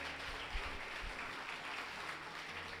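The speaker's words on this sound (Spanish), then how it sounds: "Démosle un aplauso al Señor." Dense, steady clapping from a church congregation, sustained without a break and fairly close.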